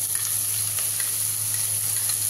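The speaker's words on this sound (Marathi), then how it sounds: "तर आता आपण हे छान फ्राय करून घेऊयात." Vegetables frying in a pan with ginger garlic paste for veg Hakka noodles, a steady close sizzle that holds evenly throughout, with no voices.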